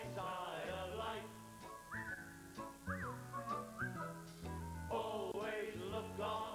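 Whistling of a tune from a song at the Macy's Thanksgiving Day Parade, a melodic whistled line carried over a loud band and singing accompaniment.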